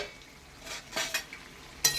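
Meat stir-fried in a pan for a mutton dish, with soft scraping stirs and a brief sharp clatter of a utensil near the end, close and fairly quiet.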